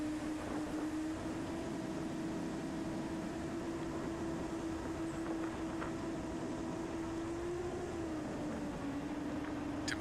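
iFlight Helion 10-inch 6S FPV drone with 10-inch props flying at low throttle to hold level flight, giving a steady, distant propeller drone tone that holds nearly constant with a slight pitch dip near the end.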